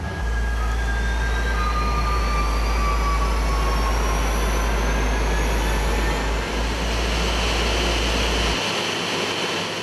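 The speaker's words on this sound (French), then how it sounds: "Donc démarrage des moteurs 2 et 1." Engines 2 and 1 of an Air France airliner spinning up during pushback: a loud steady roar with a deep rumble underneath and a rising whine sweeping upward, and the low drone drops away near the end.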